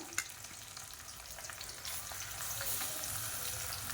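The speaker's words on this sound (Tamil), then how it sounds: "இப்போ இந்த வெங்காயம் நல்லா பொன்னிறமாக வதங்கட்டும்." Onion sautéing in peanut oil in a pan for Tamil-style biryani: a steady, continuous sizzle and crackle of frying close by, growing slightly louder partway through, with no talking.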